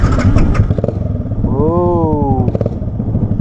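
A modified Yamaha R15 V3 with a loud aftermarket exhaust roars up close. The engine revs in a brief rising, wavering pitch sweep over a dense, rumbling idle clatter.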